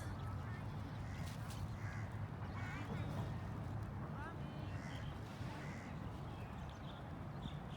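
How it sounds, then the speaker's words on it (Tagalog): Crows and other birds caw and call repeatedly over a steady outdoor rumble near a waterfront in Dubai, fairly faint, with people talking in the background. "Ang daming mga ibon."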